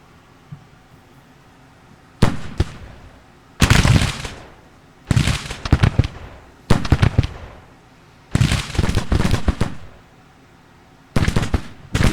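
Bursts of gunfire from a Civil War battle in the strategy game Grand Tactician: The Civil War, with ragged volleys of musketry crackling in separate clusters between short quiet pauses.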